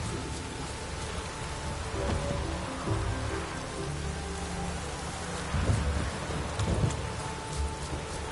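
Steady rain with rolling thunder from a thunderstorm in a PS4 video game, a constant wash of rainfall with low rumbles swelling near the middle and end.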